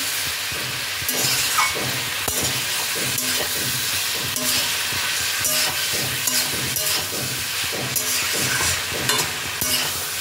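Mixed vegetables with ginger and a little sugar are stirred in a hot pan, loud rhythmic scrapes and knocks of the spatula repeating over a steady close sizzle, with no one talking.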